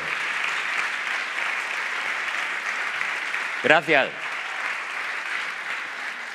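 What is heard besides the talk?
audience applause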